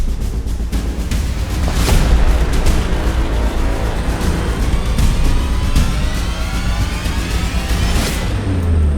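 Gunshots fired by police during a raid on cockfight gambling, a couple of sharp loud cracks several seconds apart over a constant rumbling outdoor background.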